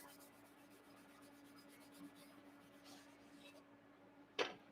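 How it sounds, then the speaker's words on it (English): A lubricated cast aluminum piece is lightly rubbed with a brown Scotch-Brite pad, giving a faint, steady scrubbing hiss, then a brief sharp knock near the end. "And I'm just going to rub this thing down real light."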